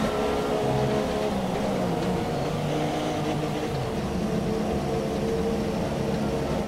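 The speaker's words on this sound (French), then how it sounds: "on entend que ça tourne par rond" Mercedes engine in the F1 2017 racing game failing and running rough, a continuous loud droning whine with wavering tones that holds steady throughout, with no talking.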